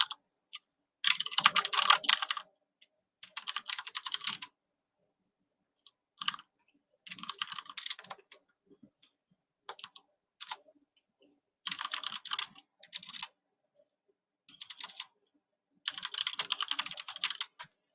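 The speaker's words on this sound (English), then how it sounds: "let me mute it because I know y'all talking about my typing." Fingers type on a computer keyboard in quick, loud clusters of close key clicks, broken by silent gaps of a second or more, with no speech in between.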